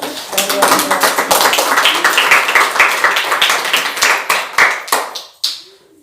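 Congregation in a church clapping hands together, a dense steady patter of many claps that fades out toward the end, mixed with a murmur of voices.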